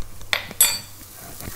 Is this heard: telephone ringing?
no